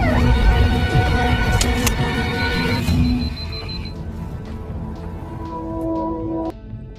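An alarm rings through a tense scene in an action film about a bank robbery. It is a loud, steady electronic tone with harmonic bands, sustained for several seconds, then it thins out and drops near the end.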